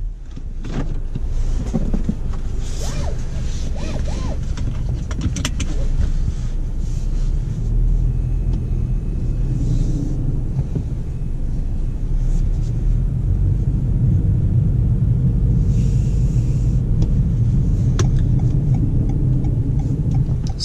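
A 2019 Toyota Corolla Hatchback XSE on the road, heard from inside the cabin as a steady low engine and road rumble that holds for the whole stretch, with no talking over it.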